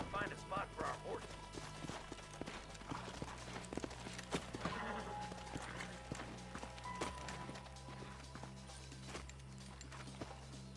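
Horse hooves clip-clop steadily in Red Dead Redemption 2 as riders move at a walk, the irregular hoof strikes layered with a whinny, creaking, and voices talking over them.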